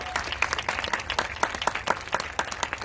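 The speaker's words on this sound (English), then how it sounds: "Another round of applause for him." Continuous applause from an audience at a marching band awards event, a dense, even patter of many hands clapping at moderate distance for an award recipient.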